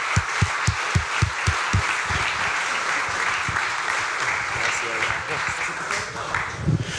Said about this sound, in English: Let's give them a big round of applause, guys.